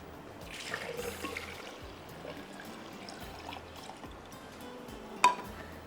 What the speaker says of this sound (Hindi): यहाँ पर हम डालेंगे दूध 1 लीटर